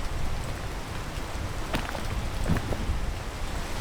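Rain falls outdoors as a soft, even hiss of drops, fairly faint, with a few brief knocks and taps near the middle.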